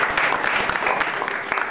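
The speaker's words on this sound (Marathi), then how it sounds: "सानप सरांसाठी पण जोरदार टाळ्या." A crowd at a school farewell for tenth-grade students claps for a teacher, sustained brisk applause with sharp individual hand claps, fairly loud and without speech.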